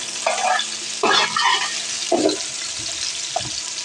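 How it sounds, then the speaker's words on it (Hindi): Onions frying in ghee for a pulao, a close sizzle broken by several bursts of stirring and scraping in the pan, fairly loud with no talking. "पुलाव बनाने के लिए प्याज को घी में फ्राई करेंगे"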